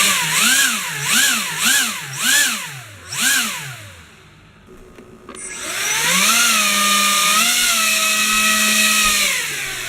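Ducted fan on an air-powered RC snow sled whines as throttle pumps up and down in four or five rhythmic surges, drops briefly, then spins up to a steady, loud, high-pitched drone held close by.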